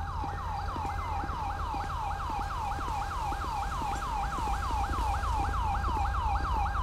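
An ambulance siren in the video game GTA with the LSPDFR mod wails in a fast, steady repeating yelp, sustained and moderately loud over a low engine rumble.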